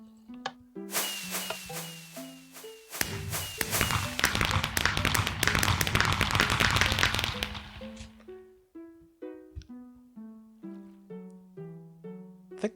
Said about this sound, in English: It's a little fireworks show.